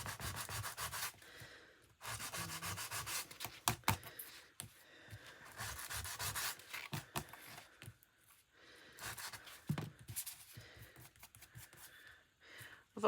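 Paper is rubbed and scuffed to distress the edge of a photograph, close quiet scratchy strokes in irregular bursts with short pauses between.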